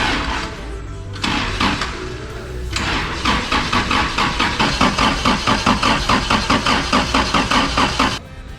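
Holden Jackaroo engine cranked over with the key, a rapid rhythmic whirring of the starter that goes on for several seconds and then stops abruptly, heard close up.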